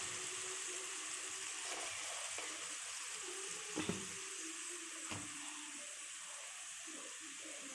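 Turmeric and salt-coated spices for a soybean, pointed gourd and potato curry sizzle steadily in a hot pan, a constant close frying hiss broken by a couple of sharp spatula scrapes against the metal.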